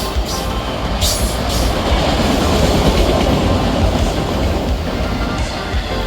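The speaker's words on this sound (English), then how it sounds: "Turns out this would be a train with some Union Pacific foreign power" Union Pacific freight train hauling auto racks rolls past close and loud, a continuous rumbling clatter of wheels on rails with a few sharp metallic squeals near the start.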